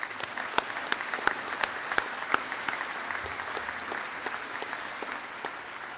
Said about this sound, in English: One more round of applause for this super professional team.